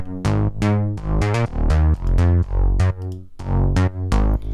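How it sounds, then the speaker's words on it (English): Future house bass synth, punchy plucked notes with bright pitch-bending attacks in a bouncy repeating groove, loud and up front with no voices. "which is that main bass sound you hear"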